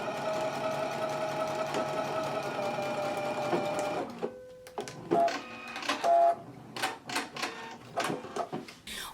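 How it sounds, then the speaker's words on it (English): A sewing machine runs a continuous fast stitching whir through a skirt pattern circle, then stops and restarts in short mechanical bursts and clicks, close and alone. "we're going to stitch through this circle about 1 inch above it and 1 inch below it"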